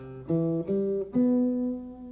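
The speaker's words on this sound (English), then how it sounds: "You can also harmonize up beyond the 5th to the 7th degree, which will sound like this" Four plucked acoustic guitar notes of a seventh chord arpeggio sound one after another, climbing step by step, the last one ringing out and slowly decaying, alone and close.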